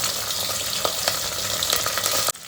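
Fenugreek seeds, chillies, onion, green chillies and curry leaves hit hot oil for a South Indian sambar tempering, giving a loud, dense, continuous sizzle with faint scraping that cuts off abruptly near the end.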